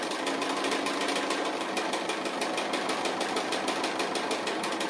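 Sewing machine stitching fabric applique, a rapid steady mechanical chatter of needle strokes running continuously, close and moderately quiet.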